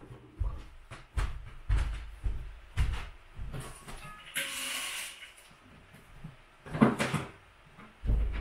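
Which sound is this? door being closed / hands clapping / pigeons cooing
door being closed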